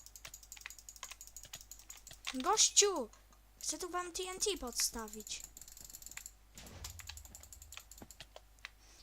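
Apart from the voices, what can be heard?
computer keyboard typing, shift key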